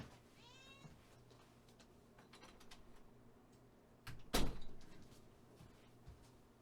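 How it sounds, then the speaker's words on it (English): A house cat meows faintly once or twice as it is let out, followed by a sharp knock and a door sliding or closing, all quiet against low room noise. "Gotta let a cat out."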